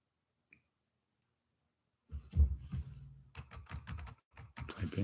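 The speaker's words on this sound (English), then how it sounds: "Typing away." Typing on a computer keyboard during an online career services session: a single faint tap, silence, then close, irregular bursts of key clicks and thumps.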